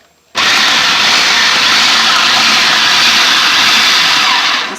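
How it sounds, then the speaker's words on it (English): A blender pulsing two tomatoes for pico de gallo, a loud whirring motor roar that starts abruptly and holds steady for several seconds before easing off at the end. "we're going to pulsate these 2 tomatoes here"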